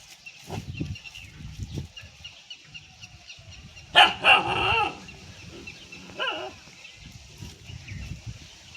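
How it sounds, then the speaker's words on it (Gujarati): A dog outdoors gives a couple of sharp barks midway, fairly close, amid scattered rustling and low background noise. "જો કૂતરું ભહે છે।"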